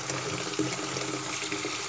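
Grapes rinsed under a running kitchen tap, a steady close splashing of water over the fruit with small shifts in the flow, lasting a couple of seconds with no voices.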